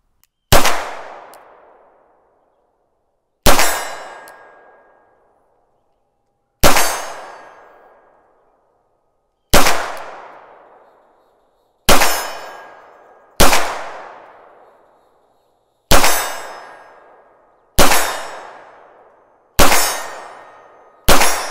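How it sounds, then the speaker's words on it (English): Nine single pistol shots from a stainless Beretta 92FS, each followed by a ringing metallic clang off a steel torso target, spaced a few seconds apart and growing slightly quicker toward the end, loud and alone. "Let's shoot that torso again."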